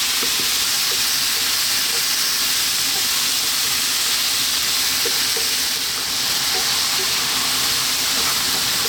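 Onions and lamb curry fry over high heat, a loud, close, unbroken sizzle and hiss with faint stirring scrapes running underneath.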